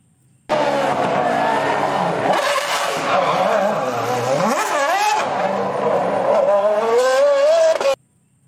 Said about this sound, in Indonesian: Ada mobil Formula One juga